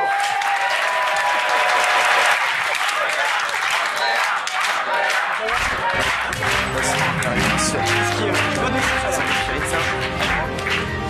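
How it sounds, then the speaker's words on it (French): Studio audience applause on a French TV talk show, loud and sustained with dense clapping throughout, as music swells in underneath partway through. "applaudissements pour nous"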